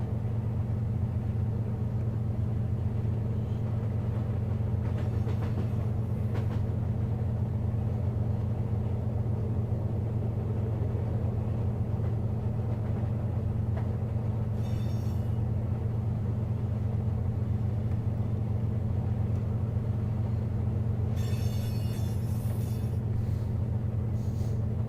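A CSX freight train, locomotive 5410, running in the Run 8 train simulator, heard as a steady low engine drone and rumble with occasional brief higher hiss bursts, no talking.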